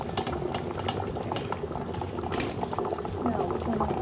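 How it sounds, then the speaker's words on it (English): A lidded pot of homemade herbal cough and cold remedy simmers steadily, giving a continuous bubbling, boiling texture at moderate level with faint kitchen noises throughout. "I'm gonna close the lid and let it simmer for 2 hours"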